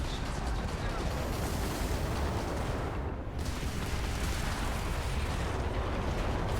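A missile fired in the space-combat game Starfield launches and bursts in a steady, roaring rumble that fills the scene, with a brief dip midway before the heavy blast noise resumes.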